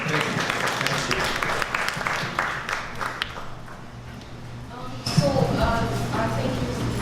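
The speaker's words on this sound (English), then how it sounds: "Round of applause for everybody." Conference attendees applaud at a young adults church conference, a steady patter of clapping that thins out midway and then swells again near the end, moderately loud and sustained.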